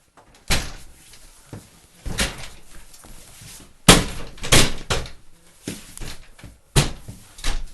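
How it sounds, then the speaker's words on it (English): A Gibraltdoor prehung door unit is slipped into a prepared rough opening, giving a series of sharp knocks and thumps of wood against the frame, spaced irregularly and fairly close, with no voices. "Opening is prepared, and I slip the Gibraltdoor in."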